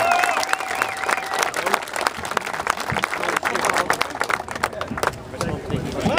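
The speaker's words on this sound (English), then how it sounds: "Let's give him a round of applause" An outdoor crowd at a veterans' march gathering in Valley Forge Park applauds a guest speaker, loud and continuous clapping mixed with scattered voices throughout.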